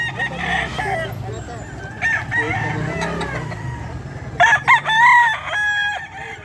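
Kelso roosters crow in a bustling pet market, several drawn-out calls rising over background chatter, with one loud close crow near the end and clucking fowl throughout.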